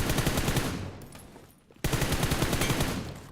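Rapid bursts of UMP45 submachine gun fire in the mobile shooter BGMI, one long loud volley, a brief gap, then another sustained burst.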